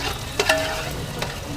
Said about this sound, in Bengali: তেল চর্বি দিয়ে পেঁয়াজ ভাজা হচ্ছে